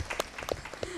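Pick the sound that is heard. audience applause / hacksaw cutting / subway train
audience applause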